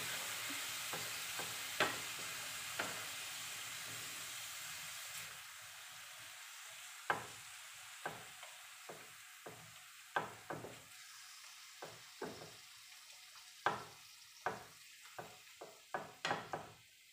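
Vegetable oil sizzling in a frying pan with minced beef, a soft steady hiss broken by a series of sharp clacks of a utensil stirring against the pan.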